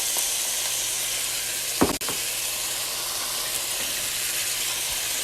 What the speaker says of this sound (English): I'm gonna mix this and saute it for a couple of minutes